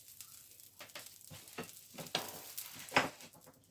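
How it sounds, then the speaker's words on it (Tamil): Curry leaves and drumstick leaves fry in oil in a pan over low heat, giving a soft steady sizzle broken by a few sharp crackling pops. "முதல் நாங்கள் விட்ட அந்த எண்ணெயிலேயே இதையும் அப்படியே கொஞ்சம் வறுத்து எடுத்துக்கொள்ளுங்கோ"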